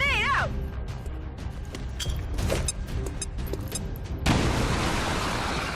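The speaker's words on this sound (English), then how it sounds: "Grenade out!" Grenade blast in a combat game, a heavy boom with crashing debris amid scattered gunfire, then a sustained loud roar of rumbling noise afterward.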